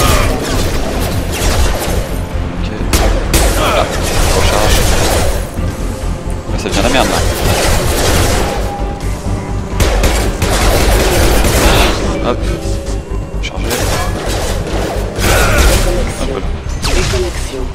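Sustained video game gunfire from a Mass Effect battle against mechs, with dense overlapping shots, crashes and impacts running loud throughout, and game voices mixed in.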